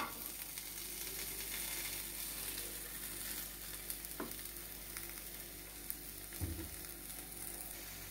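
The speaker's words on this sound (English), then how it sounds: "fry the thinly sliced onion" Thinly sliced onion fries in red chili paste over high flame, giving a continuous, fairly loud sizzling hiss with occasional soft spatula knocks and no talking.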